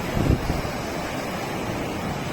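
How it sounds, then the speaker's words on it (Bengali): Sea waves on the beach near Konark, heard as a broad, steady surf roar close by, with a brief louder rush near the start and some wind buffeting the microphone. "আওয়াজ দেখেছো কি সমুদ্রে"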